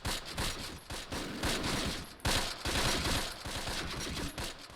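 Sustained machine gun bursts and scattered gunfire crackle through a Close Combat battle in fog near Le Mesnil-Adelee, loud and continuous with dense overlapping shots across the whole stretch.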